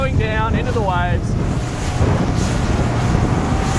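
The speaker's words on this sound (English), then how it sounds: "Geez, these Hondas sound good. They're kind of throaty." Honda outboard engines driving a 2021 Lomac Adrenalina 7 at speed, around 45 knots over waves, give a steady throaty roar mixed with wind buffeting and water rush, with a brief shouted voice near the start.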